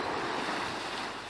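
Steady, full-band wash of sea surf with waves breaking over a reef about 1,500 feet offshore under calm sea at high tide, heard as continuous distant roar with wind buffeting the microphone.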